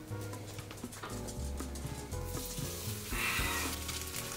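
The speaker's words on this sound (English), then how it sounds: "we're going to stick him into a hot skillet and pan fry both sides" A Taiwanese scallion pancake fries in hot oil in a skillet, producing a steady sizzle that swells louder and hissier toward the end, with no talking.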